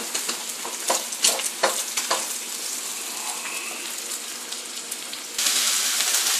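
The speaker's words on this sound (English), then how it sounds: "I've added in my rice. Mixing it up with the eggs here." Shrimp fried rice with eggs being stir-fried in a pan: steady sizzling and frying with repeated scraping, stirring strokes at an irregular rhythm, growing louder near the end.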